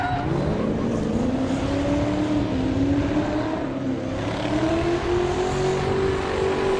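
A drift car fitted with a BMW V8 and a Mercedes supercharger roars loudly and continuously, its engine note sweeping up and down while the tires burn, with no break in the sound.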